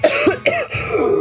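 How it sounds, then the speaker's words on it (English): Harsh, close coughing fit with several rapid hacking bursts and throat-clearing, a character choking right after trying to eat something. "Peregrine is coughing her lungs out the second she attempts to eat this thing"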